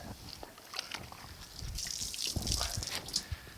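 Water running and splashing onto a 1950 Chevy truck door as it is soaked, a steady close trickle and spatter with brief drips, no talk.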